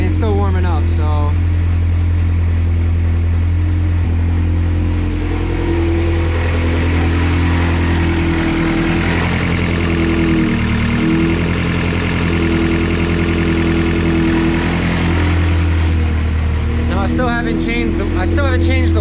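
A Honda CRX with an all-motor B17 engine idles steadily while still warming up, a loud continuous low rumble with an even, unbroken drone; a voice speaks briefly near the end.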